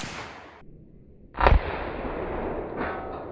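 A single loud muzzleloader rifle shot fired outdoors, a sharp crack followed by a long rumbling decay, alone with no talk.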